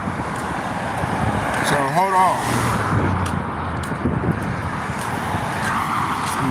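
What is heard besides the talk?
cars passing by on a road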